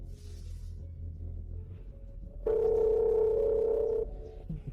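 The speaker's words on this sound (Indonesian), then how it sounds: "Percaya atau tidak, aku akan telepon." A steady telephone tone hums alone for about a second and a half during a call, starting abruptly after quiet background noise and cutting off cleanly.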